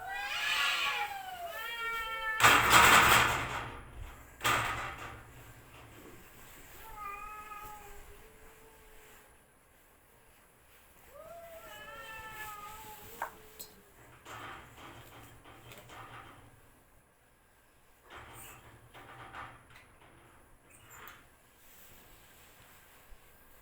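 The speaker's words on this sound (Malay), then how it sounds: "Kucing gaduh." Cats fighting outdoors trade loud, drawn-out yowls and caterwauls, several rising and falling cries spread over the span with a harsh scuffle burst early on, followed by quieter rustling and thuds.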